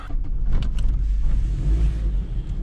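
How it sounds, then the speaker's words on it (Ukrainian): A Daewoo Lanos running on gas starts up: a brief whirring crank leads into a low, steady engine idle, close and fairly loud, with no voices. "Заводиться чітко на газу, чикс, повернув."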